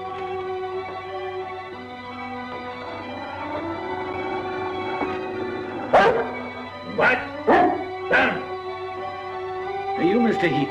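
A dog barks several times in a period film scene, sharp close yelps in a quick cluster after a stretch of low sustained music, with a final whimpering yip at the end.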